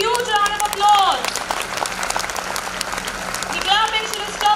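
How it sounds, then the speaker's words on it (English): Parents at a school felicitation event clap in a round of applause, a bright, busy patter mixed with children's high-pitched voices and cheering, louder at the start and near the end. "Parents, can we have a please big, huge round of applause?"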